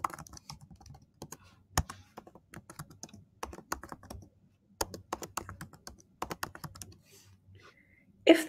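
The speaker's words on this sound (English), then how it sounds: "Enter your email address and a strong password of at least 8 characters." Rapid tapping on a computer keyboard as an email address and password are entered, with close, crisp keystrokes in irregular bursts and short pauses and no talking.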